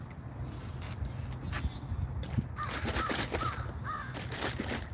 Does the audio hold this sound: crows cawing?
yes